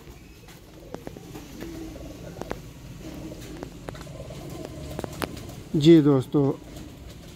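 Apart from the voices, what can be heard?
Ali-wale breeder pigeons cooing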